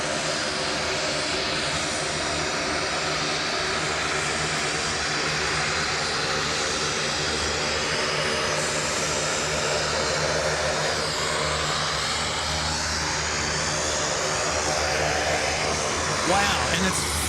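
De Havilland turboprop of Pelican Airlines taking off at night at Sydney Airport, a steady loud propeller and engine roar that persists throughout, with people talking over it.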